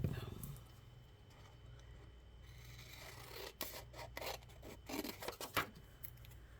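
Scissors snip through folded paper in a quiet room, making a quick cluster of several soft, close cuts after a few seconds of near silence.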